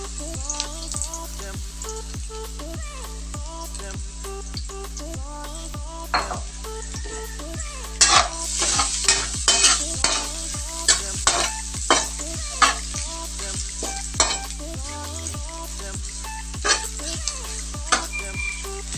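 Garlic sautés in a pan for squid adobo with a loud, constant sizzle and repeated scraping clatter of stirring, set against steady background music.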